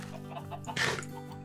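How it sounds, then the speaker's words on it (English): Chickens in Minecraft produce a short run of soft clucks over a steady low hum, with one louder, brighter cluck near the end. "I have to breed chickens."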